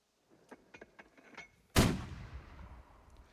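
In the Burden of Command war strategy game, a single loud mortar impact booms and rolls away into a decaying rumble, preceded by a few faint interface clicks and light ticks.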